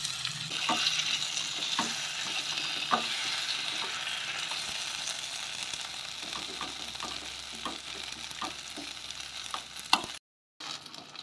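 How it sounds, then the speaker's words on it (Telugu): Chopped tomatoes frying in a pan, a loud steady sizzle with spaced spoon scrapes and knocks from stirring, no voices, ending in a short silent gap. "కోసి పెట్టుకున్న టమాటా ముక్కలు వేసి కలిపి దోరగా వేగిస్తూనే ఉండాలి"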